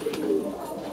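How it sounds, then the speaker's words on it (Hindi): Red pigeons in a loft coo softly, a low murmuring call, steady and close for the whole second with faint background noise. "ये दो लाल कबूतर हैं"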